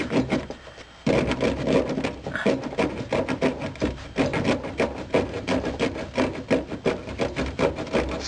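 A hand saw cuts through a seized plastic fuel filter bracket mounted on a gas tank, producing rapid, rhythmic rasping strokes, close and fairly loud, continuing steadily throughout.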